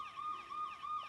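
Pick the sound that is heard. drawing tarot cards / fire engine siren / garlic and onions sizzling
fire engine siren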